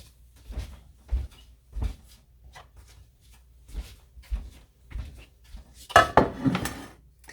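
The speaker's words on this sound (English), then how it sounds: "Now, let me go get my pan." A cake pan is fetched from a kitchen cupboard for a poke cake: scattered soft knocks and thumps of a cupboard, then a louder clatter of metal pans being pulled out near the end.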